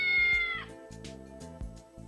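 A cat in a Japanese girlfriend-simulation game gives one short, bright meow over soft background music, and the music carries on alone afterward.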